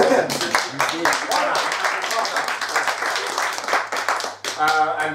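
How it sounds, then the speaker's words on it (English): Loud clapping from a small improv comedy audience, sharp and uneven, with a voice speaking over part of it. "let's just give a big round of applause to Plagiarism from just before."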